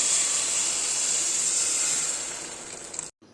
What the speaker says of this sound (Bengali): গরম জলটা এই যে গরম জলটা ঢেলে দেবো এর মধ্যে